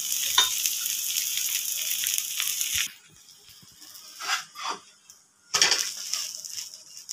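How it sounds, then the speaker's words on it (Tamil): Podi dosa sizzling and frying on a hot pan after being flipped, with oil poured over the top; a steady loud sizzle stops briefly, then returns in short bursts before swelling again. "தோசை திருப்பி போட்டு மேலே கொஞ்சம் எண்ணெய் ஊற்றணும்."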